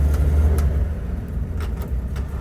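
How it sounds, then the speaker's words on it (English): A 1959 Chevrolet Suburban Carryall 3106 with the 235 Thrift Master six and four-speed rumbles close by, a deep, steady engine note that swells slightly as the throttle is worked. "You can hear the throttle."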